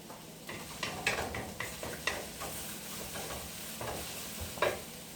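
Onions stirred in a wok with a spatula: scattered scraping strokes and light clinks over a steady background sizzle, close and fairly quiet, with no talking.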